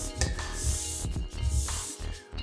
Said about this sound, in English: this is a bit of black paper on which I am just spraying paint to get it to work